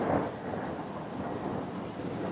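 Heavy torrential rain pouring outdoors, a dense steady broadband wash with low rumbling wind on the microphone, loud and constant throughout with no voices.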